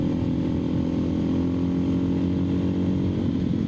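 Suzuki DR650 motorcycle engine running close by with a steady, loud thumping drone and mild surging, heard alone without talk.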